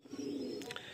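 A Madrasi old-line pigeon in a full loft gives a single short, close coo, with a faint higher chirp near the end.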